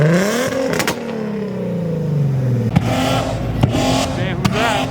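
A car engine revs at a car meet, rising and falling in loud bursts close by, while people talk over it.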